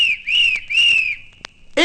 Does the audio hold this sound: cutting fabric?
no